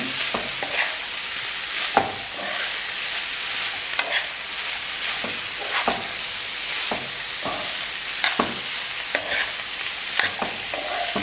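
Veggie chunks simmering and sizzling in a brown stew, with a spoon stirring through them and knocking against the pot now and then over a steady frying hiss. Close by, and no one talks.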